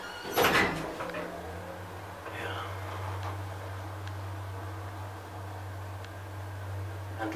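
A 1984 KONE elevator with vandal-resistant design operates: a sharp clunk and rattle of the doors, then a steady low machine hum and faint clicks as it runs, with a person speaking over it.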